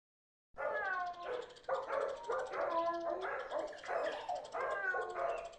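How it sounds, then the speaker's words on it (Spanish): A dog barks repeatedly outside a house, a steady run of close, loud barks and yips with short gaps, alone without talk. "el ladrido de un perro, afuera de mi casa"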